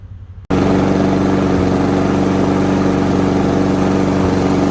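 A 22-inch Toro Recycler lawn mower engine, which has low power and keeps cutting out, starts abruptly and runs loud and close with a steady, slightly uneven chugging rhythm.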